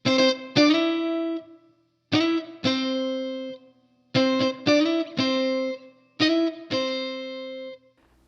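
An electric guitar plays a song's vocal melody in octaves, in short bright phrases of two or three plucked notes separated by brief gaps, with a distorted, chorus-like tone and reverb, close and alone.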